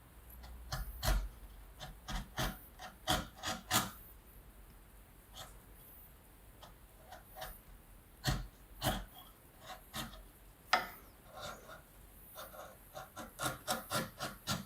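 A chisel pares a piece of pine wood in a quiet room, a series of short, crisp scraping strokes coming in irregular bursts, some clustered quickly together, close and fairly soft with no talking.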